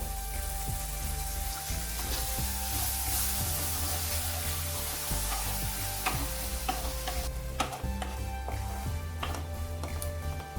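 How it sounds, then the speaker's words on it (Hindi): Spice masala with tomato puree fries on low flame in a pan for prawn malai curry, a constant dense sizzle with the scrape of stirring under it, steady and close with no speech, faint background music underneath. "अभी हम इसको लो फ्लेम में 4 से 5 मिनट तक फ्राई करेंगे।"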